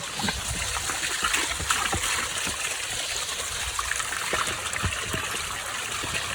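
Water flowing down from a hilltop waterfall near Kandy: a steady, fairly distant rush and splatter with small splashy ticks, continuous throughout with no voices.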